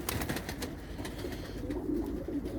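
Low, soft pigeon coos rumble steadily throughout, close by, with faint background rustling and chatter-free ambience.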